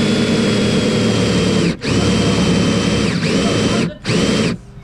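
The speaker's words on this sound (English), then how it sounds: "he's drilling holes in your bench" A loud power drill whines steadily, cutting out briefly twice as it bores holes into a wooden bench, close by with no talking.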